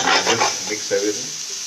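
Cottage cheese and rice stirred together in a pan with turmeric, garam masala and red chili, a close scraping and stirring with a light sizzle, mostly on its own.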